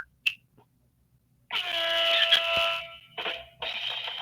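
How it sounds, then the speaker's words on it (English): A short sharp click, then a loud blaring horn blast lasting over a second, a brief pause, and two more shorter horn bursts. "I don't know why we had an air horn on"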